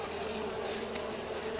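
Mandaçaia stingless bees hum inside a wooden hive box, a close, continuous soft buzz with faint wingbeat whines drifting over it.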